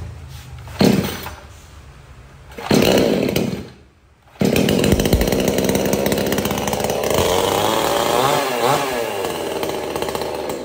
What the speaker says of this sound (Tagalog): Ito, chainsaw 22 inches.